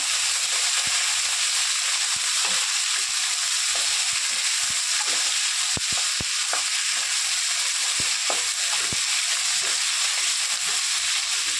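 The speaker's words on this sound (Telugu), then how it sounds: "కొంచెం లైట్గా ఫ్రై చేసుకొని సరిపోతుంది ఉల్లిపాయలు ఎక్కువ బ్రౌన్ కలర్ అవసరం లేదండి" Onions and tamarind fry in oil in a constant, even hiss of sizzling, broken by scattered sharp ticks and scrapes from stirring, close and steady throughout with no speech.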